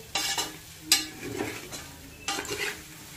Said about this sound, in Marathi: मसाला असा मस्त असा परतून झालेला आहे.